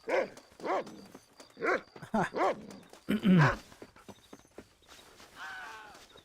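A dog barks and yelps in Red Dead Redemption, about six short, sharp calls in quick succession over the first few seconds, followed by a louder cry and then faint, voice-like sounds.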